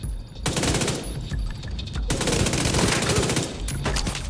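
Sustained SMG gunfire in The Division 2 during a PvP match, loud and continuous rapid bursts with a brief pause near the two-second mark, dense and close throughout.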